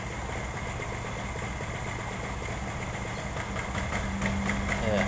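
A Honda Vario 110 carburetor scooter engine idles with a fault that stops it revving properly, a steady close putter with a slightly uneven rhythm that grows a little louder near the end.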